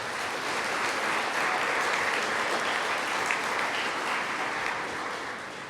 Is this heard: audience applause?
yes